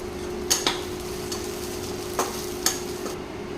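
Onions fry in a pan and a utensil stirs them, with a steady low sizzle broken by a few sharp scraping clinks of the spoon against the pan, close up and without talk.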